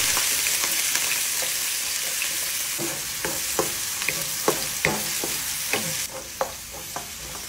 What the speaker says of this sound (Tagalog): Maglalagay lang ako ng mantika at magigisa na tayo ng sibuyas at bawang.